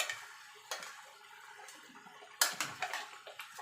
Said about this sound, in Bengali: দেখুন বন্ধুরা, মাছটা ঝোলটা ফুটে গেছে।